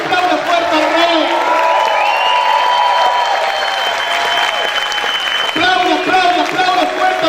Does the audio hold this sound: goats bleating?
no